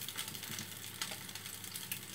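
Potato pancakes sizzle in a frying pan in a home kitchen, with a steady crackling hiss close by and no talking.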